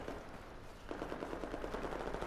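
Rapid automatic fire from an M4 rifle in Battlefield 4, a fast steady burst of crisp repeated shots that starts partway in and continues to the end, loud and alone over a low game ambience.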